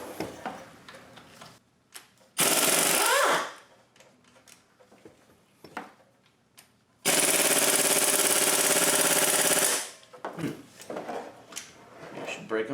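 Impact wrench breaking 12 mm bolts free on a Hyundai 2.7L engine during a spark plug and wire job, with two loud sustained rattling bursts, one shorter and one about three seconds long, separated by quieter handling noises and brief talk.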